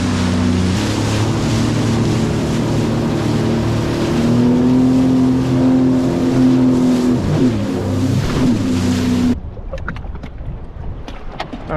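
A Sea-Doo personal watercraft cruising the ocean along the Catalina coastline, its engine droning loud and steady with wind and water rush. The drone ends abruptly near the end, leaving only water and wind noise.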